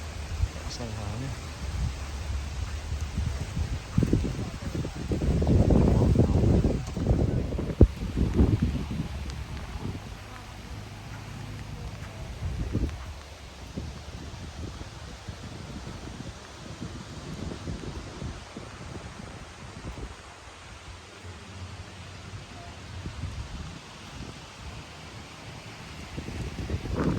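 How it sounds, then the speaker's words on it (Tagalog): Strong wind gusts roar across a microphone at an outdoor river campsite, rising loudest early on and then continuing as a steady rushing blow with rustling throughout. "Lakas ng hangin."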